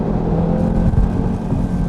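An Audi TT-RS 2018 with a 400-horsepower quattro drivetrain roars under full throttle, a steady, loud engine drone from inside the car that holds strong for the whole stretch with no talking.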